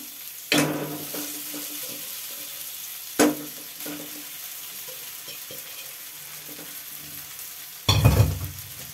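Cooked rice is tipped and stirred into tempering for raw mango pulihora in a pan, a steady low sizzle punctuated by a few sharp scraping clatters of the spoon, close up with no talk.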